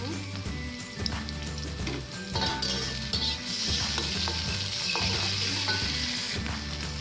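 Ground spice paste sizzles and fries in a pan for Aceh-style shirataki fried noodles, a steady close crackle with scraping stirs and light utensil clinks.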